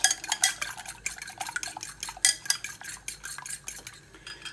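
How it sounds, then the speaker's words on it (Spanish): Eggs beaten with a fork in a bowl while a frying pan heats for a spinach omelette, rapid rhythmic clinking of metal against the bowl, close and steady with no talk. "con la ayuda de un tenedor, mientras va calentando la sartén, batimos los huevos"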